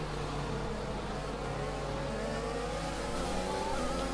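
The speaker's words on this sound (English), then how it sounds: "There we go, in a drag race against a Ferrari." A racing car's engine drones steadily in an F1 video game drag race against a Ferrari. The whine holds constant and slowly rises in pitch over a loud, continuous background roar.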